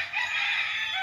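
A rooster crows among breeding chickens on a walled farm lot in Liliw, Laguna: one sustained, bright call that holds for about a second, close and clear over a quiet background.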